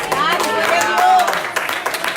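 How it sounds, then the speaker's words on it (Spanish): A church congregation claps for Christ, a quick burst of scattered hand claps mixed with voices and a raised exclamation, fairly loud and close, fading after about two seconds. "Den un aplauso a Cristo."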